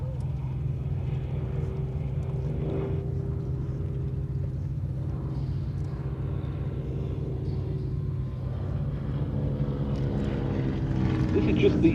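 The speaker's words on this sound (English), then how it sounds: "Final pass coming up for the Fighter Collection's Nimrod." A Hawker Nimrod biplane from the Fighter Collection makes its final flypast at Duxford, a steady propeller-engine drone that rumbles on and swells louder as it nears at the end, with a voice talking over it.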